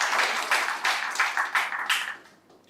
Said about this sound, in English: I would like us all just to give them all another round of applause for such